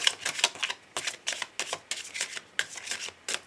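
Oracle cards being shuffled for a full-moon reading, a quick run of crisp papery riffles and flicks in close succession, fairly quiet and close with no voice.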